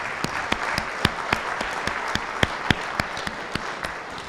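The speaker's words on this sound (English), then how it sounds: "Let's give it a round of applause for everybody who started." Audience applause at a livestreamed event, clear individual claps sounding in a loose, uneven rhythm over a soft crowd wash, close and moderately loud throughout.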